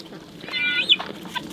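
Chickens and roosters on a homestead flock, with several soft clucks and short calls running close together at moderate volume for a moment, and no talk over them.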